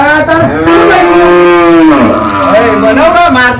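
A water buffalo gives several loud, drawn-out moos, close by, with a short break between calls and a rising, wavering low tone.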